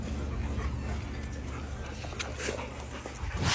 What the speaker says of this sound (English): All of these dogs are waiting right outside of the door.